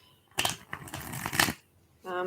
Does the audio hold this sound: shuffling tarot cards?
yes